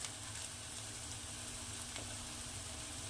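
Onions lightly sautéing in a pan for sambar give a steady, close, soft sizzle with faint crackle throughout, no voices.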